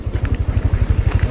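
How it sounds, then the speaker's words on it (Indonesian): A big motorcycle passes close by on a ride from Jakarta toward Puncak, its engine thumping in a fast, even low pulse that stays loud for the whole moment. "Motor gede lagi ya?"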